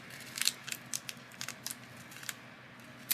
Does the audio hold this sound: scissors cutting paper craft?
yes